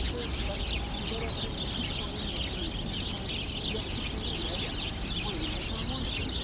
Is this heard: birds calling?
yes